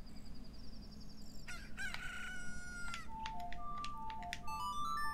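A rooster crows at dawn in the Zelda Ocarina of Time video game, one clear cock-a-doodle-doo followed by bright chiming game jingle tones, over a steady low hum with no speech.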